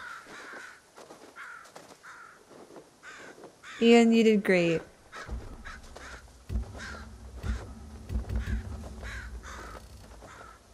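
Crows caw in Ghost of Tsushima, a few harsh calls scattered behind steady talking, with a loud burst of game sound midway and low rumbling ambience afterward.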